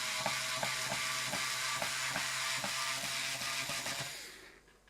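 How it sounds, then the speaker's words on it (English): Screws are backed out of a guitar tremolo bridge, giving a repeated close ratcheting click at a steady rhythm over a bright hiss, fading out at the end. "So I'm just going to bring these screws out."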